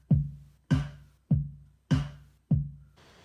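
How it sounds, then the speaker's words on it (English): A short programmed drum beat built in Ableton: five evenly spaced punchy kick-and-snare style hits about two-thirds of a second apart, each decaying quickly, close and clean with no talk. "So I made a little drum beat"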